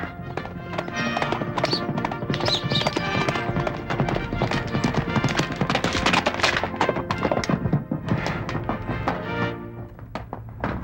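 Horse hooves clip-clop in a rapid, continuous clatter of sharp knocks, loud and close, with busy music and other noise layered over them.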